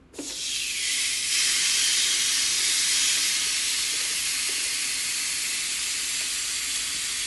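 A steak hits a hot Addison griddle and sears with a sudden loud, bright sizzle that holds steady and strong, a broad continuous hiss with no talking over it.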